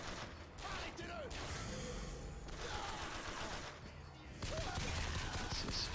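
Bursts of gunfire ring out in the video game Bioshock Infinite, scattered shots and volleys under French-speaking players' chatter, fairly faint in the mix.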